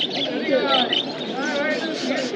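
Pigeons and other birds at the Birnagar pigeon market in Bengal give off a busy mix of chirps, tweets and soft coos close at hand, with crowd chatter blending beneath them.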